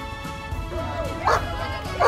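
Dogs at a pool dog show at the Gold Coast Show give a few short barks and yips over steady fairground crowd noise, the loudest coming in two brief bursts near the end.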